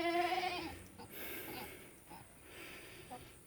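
A goat giving birth on a homestead lets out a strained, short bleat at the start, followed by fainter breathy grunts and rustling close by.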